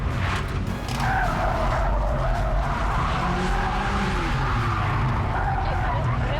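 A car skids through a handbrake turn in Quebec, a loud sustained roar of engine and squealing, scrubbing tires that holds steady for several seconds close by.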